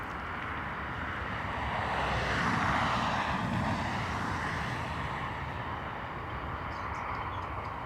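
A Ryanair airliner in from Edinburgh at Dublin Airport, a broad steady jet engine roar that swells and fades as it passes at a moderate distance, with no other sounds.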